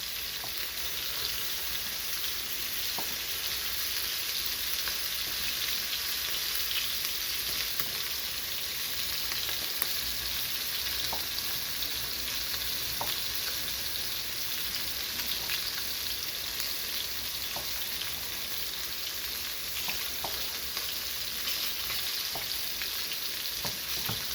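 Vermont-raised Wagyu burger patty frying in a pan, a steady, close, dense sizzle and crackle that runs unbroken throughout, with faint light pops and no voices.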